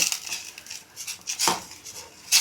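Semolina being stirred in a metal pan for rava kesari: close, scraping strokes of a spoon against the pan, repeated at an uneven pace with a sharper clink near the middle, and no voices.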